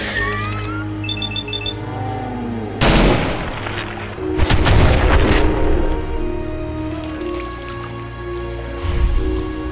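Automatic rifle fire from a cyborg in Fallout 4 comes in loud bursts, two heavy volleys midway and a shorter one near the end, amid game effects and chiming tones with no talk.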